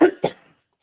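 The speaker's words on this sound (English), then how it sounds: "Excuse me, I keep coughing." Two quick, close coughs from a man, a sharp first cough and a slightly weaker second, then silence.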